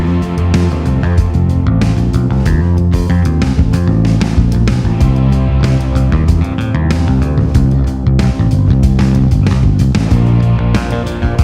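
A Chowny CHB1 bass guitar is played in a continuous groove of plucked notes, loud and steady throughout, with a full backing mix and no talking.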